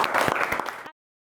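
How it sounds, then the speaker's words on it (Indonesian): A short burst of classroom applause for a student's answer, many hands clapping together for under a second before it cuts off abruptly into silence. "Beri tepuk tangan buat Mbak Rizky"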